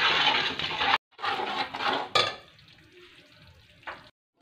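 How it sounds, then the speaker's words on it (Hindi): Spices sizzle in hot ghee in a pan while being stirred. The sizzle is loud and close in two bursts, with a scrape partway through, then it fades and breaks off. "इसको 1-2 मिनट के लिए भूनें अच्छे से इस तरह"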